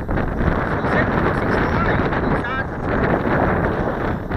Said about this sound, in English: It is windy now.